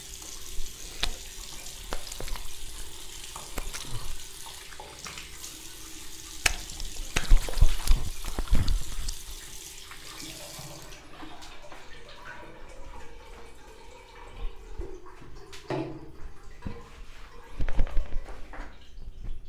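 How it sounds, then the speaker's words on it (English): Cold water running from a sink tap and splashing as a face is washed, steady trickle with intermittent splashes, close and moderately loud with no talking. "So let's wash the face with cold water"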